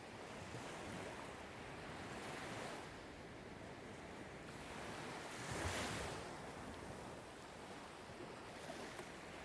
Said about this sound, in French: Vous entendez le bruit lointain des vagues qui se brisent contre le rivage.